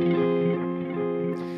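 Electric guitar run through a stereo ping pong delay pedal, a sustained chord echoing as repeats bounce between left and right, loud and close with no talking.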